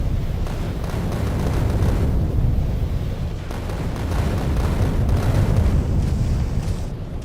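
Continuous deep rumbling explosions from rockets in the Factorio Space Age game, a dense, loud low roar rolling on for several seconds with no clear gaps between blasts.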